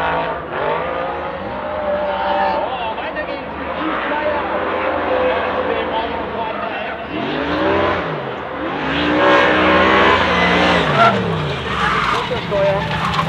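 A race car accelerates hard at full throttle, its engine note climbing and sweeping up and down through gear changes, loud and continuous, with talk over it.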